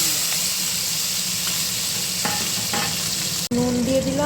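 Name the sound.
cumin, bay leaf and dried chilli tempering sizzling in oil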